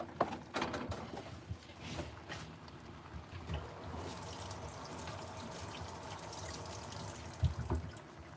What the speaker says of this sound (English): mac and cheese go in there just like that